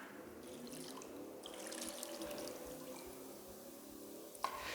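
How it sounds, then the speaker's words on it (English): Water is poured over each hand up to the wrist for ritual handwashing at a Shabbat table, a faint, steady trickle with a small splash near the end and no talking. "water over each hand up into our wrist"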